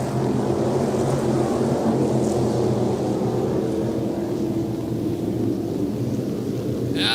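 Thunder from lightning over a dirt off-road speedway during a stock car race, a loud continuous low rumble rolling for several seconds without talk.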